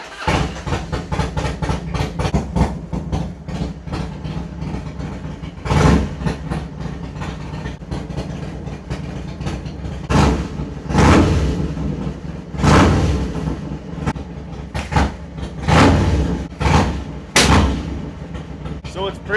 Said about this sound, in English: when I crack on it really quick, it'll sputter, kind of backfire a little bit